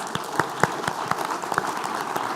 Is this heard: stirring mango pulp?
no